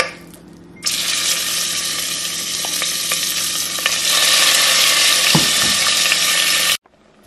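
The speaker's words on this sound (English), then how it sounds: "So I'm gonna fry this beef first" Small pieces of stew beef dropped into hot olive oil, a loud, dense sizzle bursting in and roaring steadily for several seconds with a few utensil knocks, then cutting off abruptly.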